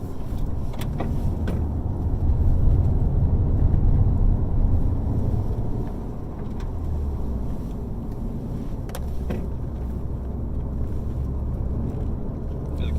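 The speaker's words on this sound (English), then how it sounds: "we'll slow down, go back into second so you can feel that rev matching again" A 2020 Toyota Corolla with a manual gearbox slows and downshifts into second with rev matching: steady close engine drone, a swell of revs early on, then a lower, even hum with cabin wind noise.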